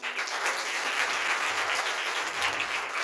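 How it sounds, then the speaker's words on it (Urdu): Congregation at a Christmas church meeting clapping together in steady, continuous applause at moderate volume. "کلام مقدس کے لیے تالیاں."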